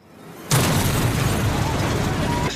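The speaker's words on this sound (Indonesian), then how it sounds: "sebuah ledakan di mobil kesayangannya ketika dia sudah keluar dari mobilnya" A car explodes in a sudden loud boom as its owner steps away, followed by a sustained roaring burst of fire and debris that stays loud for about two seconds before cutting off.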